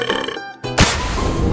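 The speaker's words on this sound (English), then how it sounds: "I think I'm burping." A young person gives a drawn-out, voiced burp with a croaking tone, breaks off briefly, then follows with a louder, rougher belch close to the microphone.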